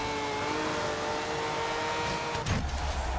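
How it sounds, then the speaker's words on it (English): A Nissan Silvia S15 Horizon Edition drifts in a racing game, its engine droning steadily with a sustained tonal whine before a brief surge and shift near the end. "try to get a couple more slides in and I should be all good to go with the drifting"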